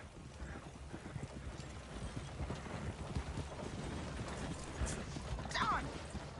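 Hooves clip-clop steadily on the ground in Red Dead Redemption 2, soft and somewhat distant, with a brief whinny near the end. Faint background voices sit underneath.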